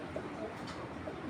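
Pigeons of fancy breeds coo softly and continuously in the background, a low, steady murmur of several birds without distinct individual calls.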